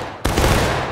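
A company's musket volley fires in War of Rights, a sudden loud crash of many rifles going off nearly together, then a dense rolling roar of gunfire that carries on to the end.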